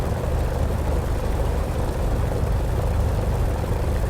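A WWII propeller warbird, Spitfire or P-51, taxiing off the runway in DCS World: a loud, steady droning engine and prop rumble, constant and close, with no voices.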